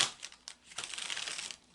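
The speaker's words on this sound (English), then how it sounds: "hopefully you can hear me shuffling the cards" Tarot cards are shuffled by hand, producing soft papery riffling and crinkly flutters in quick bursts, close and quiet with no talking.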